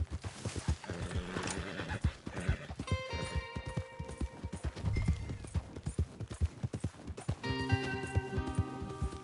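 Horses in Red Dead Redemption 2 clip-clop along at a brisk pace, hoofbeats steady and close, with occasional neighs and whinnies and game music tones rising over the hooves.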